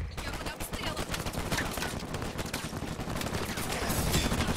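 Gunfire crackles in an Uncharted 4 multiplayer match, a dense, continuous stream of rapid shots with overlapping bursts and no talking.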